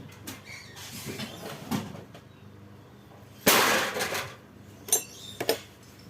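Hammer blows ring out while a copper water pump motor is taken apart, scattered metallic knocks with one loud strike near the middle and a couple of sharp hits toward the end, close by and without speech.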